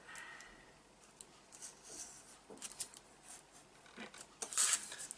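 Scissors cut through jointing insulation material in a workshop, giving a few quiet, scattered snips and rustles, close by with no voices.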